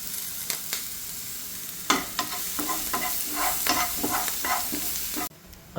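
Curry leaves hit hot oil in a Kerala-style prawn and long bean stir-fry, a close, busy sizzle with scraping stirs of the pan before the sound cuts off abruptly near the end.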